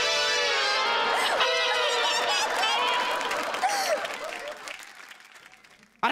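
A studio audience at a Marathi comedy show applauds in a dense burst with tonal voices cheering over it, then the clapping thins and fades away.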